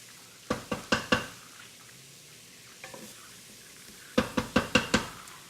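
Garlic sizzles in a pan under a faint background hiss, broken by two bursts of sharp knocking and scraping as it is stirred, near and moderately loud, with no voices.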